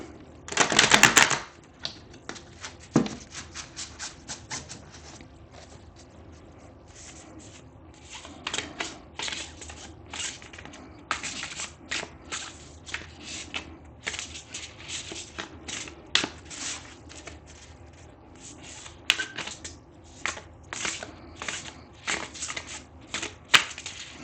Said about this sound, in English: I'm going to pull 3 cards.